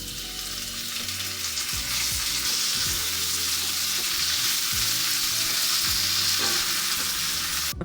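Onion and tomato masala fries in a pan with a steady, dense sizzle that carries on without a break, punctuated by soft scraping and stirring sounds from a utensil.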